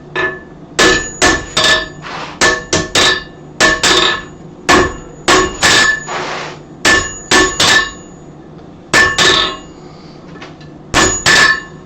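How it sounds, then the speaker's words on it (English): A hand hammer strikes a forged steel billet on an anvil during touch-up straightening, giving loud, close, ringing metallic blows in quick bursts separated by short pauses. "I'm just going to do that with a hand hammer."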